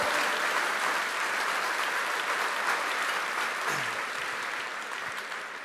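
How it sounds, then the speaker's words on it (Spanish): Church congregation applauding in a continuous, dense burst of clapping that holds steady and then gradually fades toward the end, with no voices over it. "Vamos a darle un fuerte aplauso al Señor."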